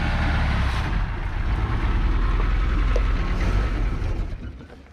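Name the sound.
Chevy Luv gas engine running, sounding like a diesel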